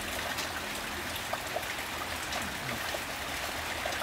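Rain falling outside a home, a steady close hiss of drops with a light trickling texture and no voices.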